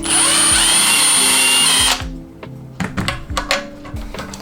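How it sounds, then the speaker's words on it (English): A power drill whirs loudly for a couple of seconds driving screws into a 3D printer toolchanger, then stops, followed by several clunks and taps of parts being handled nearby. "So I will use 2 of these screws. Drill that in. Drill this in."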